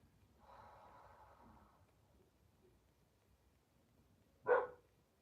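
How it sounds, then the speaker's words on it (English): A single sharp bark from a dog in a home yoga session rings out near the end, loud and close, after a stretch of quiet room tone and soft breathing. "I know they barking."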